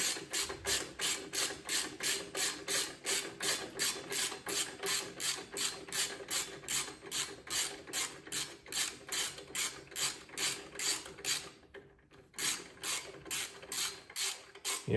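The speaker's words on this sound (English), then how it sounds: "these are just 3/16 Allen bolt heads. We'll just get these started" A ratchet wrench clicks steadily while starting 3/16 Allen bolts during a Custom Dynamics Shark Demon install on a Road Glide bagger motorcycle, a fast regular stream of close, crisp ratchet strokes with one brief pause near the end.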